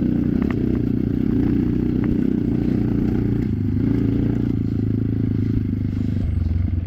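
Trail motorcycle riding a wet off-road track in West Bandung, with a steady loud engine drone and continuous rumbling clatter from the bike and terrain, without pause throughout.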